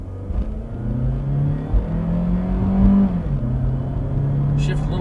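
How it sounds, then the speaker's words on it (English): A 1996 Toyota Caldina 2.0 TZ 4WD pulls hard from a standstill to 60 in power mode, its engine note climbing steadily in pitch with a brief dip at a gear change before revving up again, heard from inside the cabin. "Get your little 0 to 60 right here in power mode."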